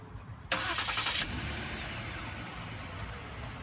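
A 2015 Ford Flex with its 3.5-liter V6 fires up: a sharp cranking burst lasting under a second, then settling into a steady, smooth idle close by, with no talking.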